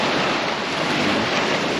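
Pacific Ocean surf rolls in at Damon Point near Ocean Shores, Washington, giving a broad, continuous roar of breaking waves mixed with wind buffeting the microphone, loud and steady without pause.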